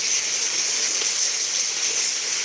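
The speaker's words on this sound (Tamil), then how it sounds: "மழை பெஞ்சிட்ருக்கு தண்ணி சவுண்டு கேட்குதா பாருங்கள் சைடில் கொட கொட கொடன்னு கேட்டுட்ருக்கு" Heavy rain pours down at midnight in a steady, dense hiss with no breaks, close by and unaccompanied by any voice.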